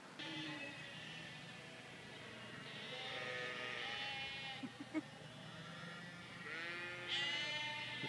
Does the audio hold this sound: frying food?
no